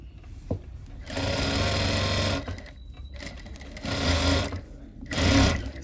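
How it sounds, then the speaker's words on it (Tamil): A sewing machine stitches a blouse in three loud, close bursts of fast, even needle rattle, separated by short pauses. "அப்படியே திருப்பி போட்டு இன்னொரு தையல்"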